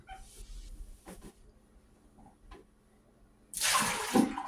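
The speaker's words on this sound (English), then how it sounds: "that water came out pretty clear, so we're not going to wash them again" Water pouring and splashing loudly in the last second, after quieter handling clatter and small knocks, as collard greens are washed.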